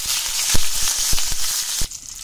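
Mustard seeds and curry leaves sizzle steadily in hot oil with sharp crackles and pops as the seeds hit the pan, a close, bright frying hiss throughout.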